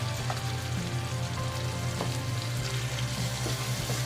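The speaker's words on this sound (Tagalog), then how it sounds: "maglagay na tayo ng tubig para lumambot yung ating meat. Lagyan natin ng tubig." Water pouring into a pan of simmering pork binagoongan, a steady hissing, bubbling wash with a low hum, continuous and moderately faint throughout.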